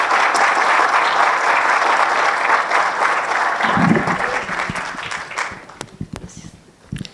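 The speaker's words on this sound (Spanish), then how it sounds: "Le brindamos un fuerte aplauso y lo recibimos." Audience applause fills a conference hall as a speaker is welcomed to a training session on artificial intelligence at a legislature, steady sustained clapping that thins out toward the end with a few scattered claps.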